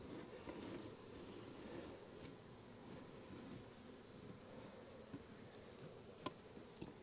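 A swarm of honey bees being installed in a hive buzzes faintly and steadily throughout, a soft continuous drone with a few brief knocks and no talking.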